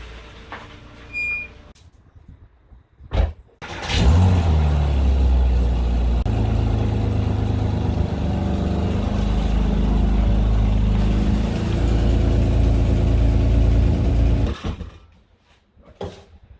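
A car engine starts with a loud burst and then runs steadily for about ten seconds before cutting off, heard close by while a Porsche and a Renault Captur are being moved, with quieter handling sounds before and after.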